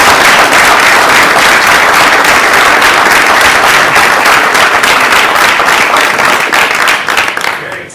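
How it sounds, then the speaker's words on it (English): A room full of people at a city Board of Public Works and Safety meeting applauding loudly and steadily, the dense clapping holding throughout before fading out at the very end. "One more round of applause for everybody here."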